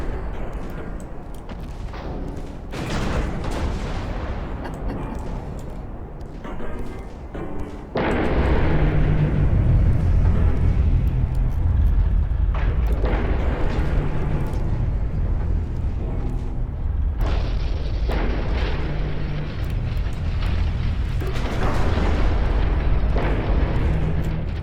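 Battleship main guns firing salvos in a World War II naval battle in Ultimate Admiral Dreadnoughts, with deep rumbling booms that roll into a sustained loud roar of gunfire and explosions.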